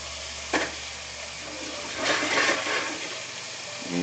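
Bacon frying in a hot pan, a steady soft sizzle with a sharp crackle near the start and a louder burst of hissing spatter midway, then settling back to a gentle fizz.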